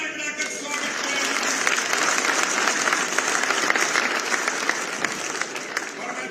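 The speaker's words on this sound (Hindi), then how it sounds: "जोरदार ताली बजाकर स्वागत करें" Audience at a political rally applauds to welcome a speaker, dense sustained clapping at a steady loud level with crowd noise throughout.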